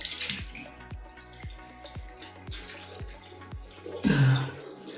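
Running water rinses face cleanser off skin during an evening facial routine, a steady splashing flow with repeated drips and small splashes, ending in a louder gush of tap water near the end.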